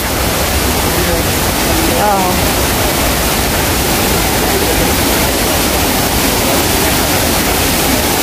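Vera Falls in Bicol pours with a loud, unbroken roar of rushing water that fills the whole scene evenly, with a brief faint voice barely audible near the start.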